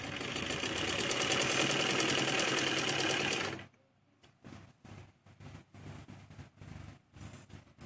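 A sewing machine stitches fabric while the cloth is guided under the presser foot, running in a loud, continuous rapid whir for about three and a half seconds, then stopping, followed by softer clicks and handling noises.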